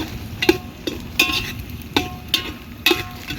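Green chillies stir-fried in a pan for masala rice, with a spatula scraping and clinking against the pan in a steady rhythm about every half second, close up over a faint background and no talking.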